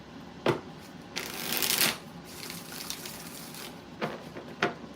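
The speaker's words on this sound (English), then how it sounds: "The world card just showed up when I was shuffling" Close, crisp riffle shuffling of a tarot deck during a live reading, with a few sharp card snaps at the start and end around one longer papery cascade, heard alone without voices.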